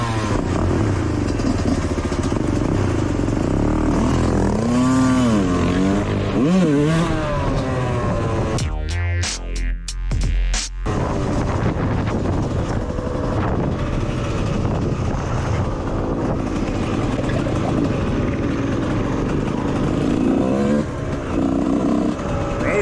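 A motorcycle ridden on a road, its engine roaring and revving close by with a rising and falling pitch as it accelerates, plus a brief clattering burst in the middle.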